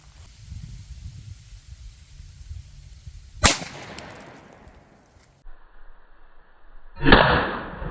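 A .357 SIG pistol fires into a concrete block outdoors, a single sharp crack mid-clip with a fading tail, after a low rumble, and a second bright burst of noise near the end.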